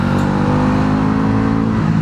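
Bajaj Pulsar NS400z motorcycle with a 40.6 PS engine running on the road, a steady, close, loud mid-low engine drone with smooth continuous tone throughout.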